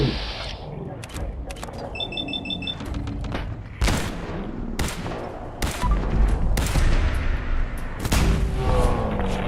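Gunfire in the Sim Settlements 2 video game as respawned gunners attack, one wielding a Gauss rifle: loud, repeated sharp shots and booms at uneven intervals over a dense bed of game noise and music.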